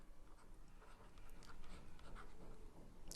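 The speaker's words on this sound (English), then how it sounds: "Let me write it down" Marker or chalk scratching across a board during a physics lecture on the Klein-Gordon equation, a faint, steady scribbling with light taps and squeaks over quiet room noise, no talking.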